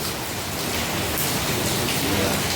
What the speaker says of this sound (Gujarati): રાતના પોણા દસ થયા છે અને વરસાદ હજી ચાલુ છે